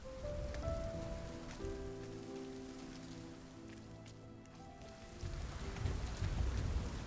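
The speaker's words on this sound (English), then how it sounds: "this is some excellent rain effects" Heavy rain in the video game RiME, a steady, soaking patter of drops on surfaces with a faint distant rumble, swelling louder near the end, with no voices.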